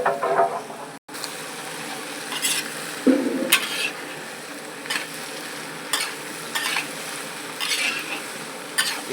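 Cut cauliflower, carrot and peas go into a hot pan for a wheat daliya khichdi, giving a soft steady sizzle broken by repeated scraping stirs and light clinks of a spoon against the pan, with no talking.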